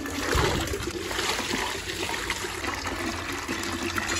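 Water splashes and trickles steadily, close by, as water is poured out of a money plant jar, a continuous pouring and sloshing sound with no voices.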